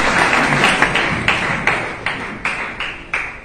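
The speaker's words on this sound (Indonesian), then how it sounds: "tepuk tangan bagi Tuhan Yesus." A church congregation claps in unison, sharp regular beats roughly every third of a second that fade slightly between hits, ringing in a reverberant hall.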